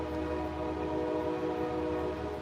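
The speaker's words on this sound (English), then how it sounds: "Choo-choo." Train passing close by, with steady tonal horn-like harmonics over continuous rumbling wheel and rail noise that stays loud throughout, with no talking.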